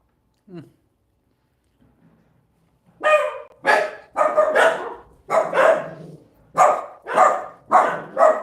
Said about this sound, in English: Are my dogs barking also garbled?